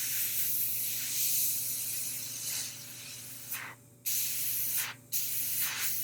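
An airbrush sprays unthinned paint to shade a Wolverine miniature model, a steady close hiss with a few brief cutoffs and restarts, no talking.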